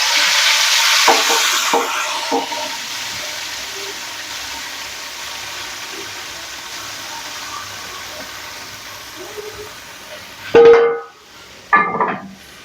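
Hot tadka tempering poured into kadhi sizzles with a bright, hissing burst at first, then fades to a low simmer with faint stirring, followed by two short clanks of a utensil near the end.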